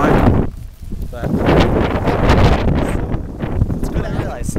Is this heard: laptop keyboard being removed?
no